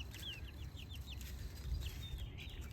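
Young chicks about three and a half weeks old chirp and cluck in a small flock, with repeated soft high peeps over a steady low background hum and no voices.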